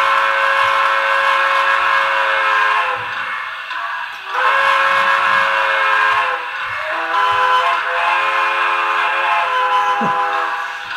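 A Broadway Limited Imports PR1a model steam locomotive's electronic whistle sounds in several long, loud toots with brief pauses, over a faint low chuffing.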